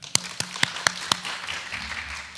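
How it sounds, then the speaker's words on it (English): An audience claps at a genomics science tournament event in a main hall: a handful of sharp, evenly spaced individual claps followed by a softer, scattered tail. "let's give a big applause to her"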